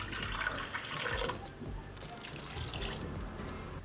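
Water is poured into a cooking pot of half-cooked beetroot for pulao, a close, soft splashing pour that starts fuller and eases into a quieter, steady trickle.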